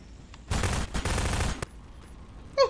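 Rapid automatic gunfire in a ragdoll video game, one dense loud burst lasting about a second followed by a single sharp shot, then quiet.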